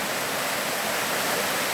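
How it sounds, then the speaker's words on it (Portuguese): Paquetá waterfall in the Bexiga area of Ilhabela, São Paulo, a long drop feeding a natural pool, roars as a steady, dense rush of falling water, continuous and fairly loud with no voices. "que linda a nossa cachoeira, Paquetá, localizada na região do Bexiga, Ilhabela"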